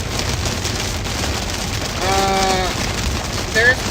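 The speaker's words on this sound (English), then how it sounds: "there is large hail in this" Large hail pounds down during a severe storm in Pennsylvania, a dense, steady clattering roar that fills the whole stretch, with a brief tonal sound rising partway through and a sharper knock near the end.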